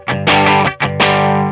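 Distorted electric guitar power chord with the fretting hand muting the unused strings, struck loudly twice in quick succession, each hit ringing briefly before the second is held and fades.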